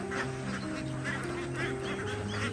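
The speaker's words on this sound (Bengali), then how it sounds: "2023 সালে শখের বসে ইউটিউবে ভিডিও দেখে হাঁস পালন শুরু করেন মোনাজাত আলী।" On a commercial duck farm, ducks quack in a busy chorus of overlapping calls, fairly faint and set against a steady hum.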